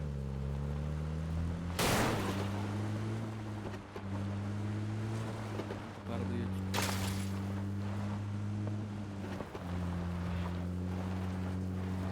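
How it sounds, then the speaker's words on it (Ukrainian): Distant gunfire in a squad battle royale video game, two sharp broadband bursts standing out over a steady droning engine hum, heard faintly at a distance with no talk. "теж чув, що звідти стріляло"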